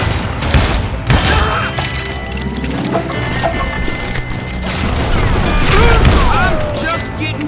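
Gunfire from the Western shooter Call of Juarez: Gunslinger, with dense, loud bursts of shots and booming impacts running throughout, mixed with game effects and music.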